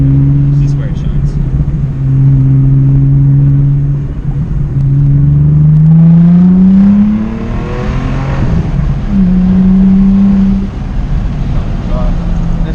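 An Audi S4 B5 engine pulls hard in second gear during a ride-along, a loud rising growl that climbs through the revs, eases, then surges again, with people talking inside the car over it.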